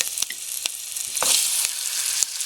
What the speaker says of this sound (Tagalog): Ipa-fry po natin dito yung chicken.